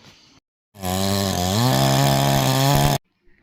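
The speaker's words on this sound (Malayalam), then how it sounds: "അപ്പോൾ നമ്മൾ മരം മുറിക്കാണ്" A chainsaw cuts into a Nilambur teak tree. The engine snarls up to a loud, sustained bite for about two seconds after a brief quieter idle, then cuts off abruptly.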